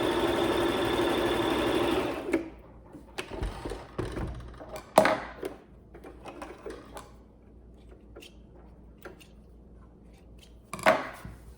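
Home sewing machine stitching fabric strips together for a log cabin pillow, a steady mechanical whir for about two seconds, followed by scattered handling clicks and taps of fabric and tools.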